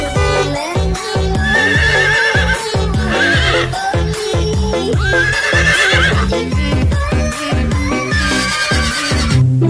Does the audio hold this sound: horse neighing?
yes